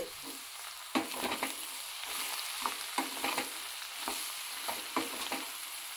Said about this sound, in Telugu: ఇప్పుడు బీరకాయ ముక్కలు వేసుకోవాలి సన్న సన్న ముక్కలుగా కట్ చేసుకున్నవి